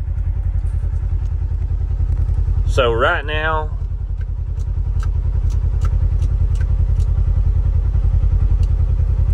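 A 2024 Polaris Xpedition side-by-side engine idles with a steady, loud low rumble throughout, while a person speaks briefly over it near the start.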